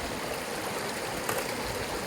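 Shallow creek water flows steadily at close range, a continuous burbling rush with no talk over it.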